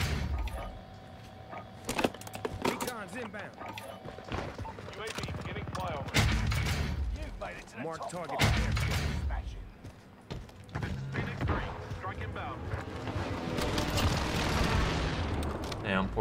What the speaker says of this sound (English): Why are you shooting me in the back?